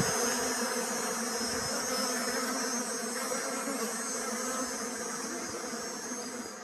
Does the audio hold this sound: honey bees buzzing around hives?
yes